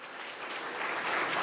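A church congregation claps together at a lively service, a dense wash of applause that swells slightly louder as it continues, with no talk over it.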